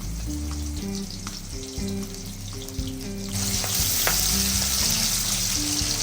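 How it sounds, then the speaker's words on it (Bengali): Chopped onions frying in oil in a large wok, a close, steady sizzle that grows louder and brighter partway through as more onion hits the hot oil, with faint background tones beneath. "বড় একটি কড়াইতে পরিমাণ মতো তেল নিয়ে আমরা একে একে তার মধ্যে কুচানো পেঁয়াজগুলো দিয়ে দিচ্ছি"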